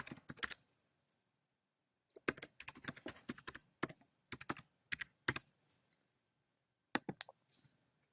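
Keys tap on a computer keyboard during an iCloud login, arriving in short bursts of quick clicks separated by silent pauses, close and crisp in an otherwise quiet room.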